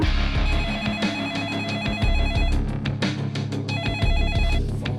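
A telephone rings in two rhythmic bursts of trilling tones in a crime docuseries scene, set against a dense, loud bed of dramatic music and sound effects.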